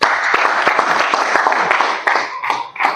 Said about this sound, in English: We should clap now.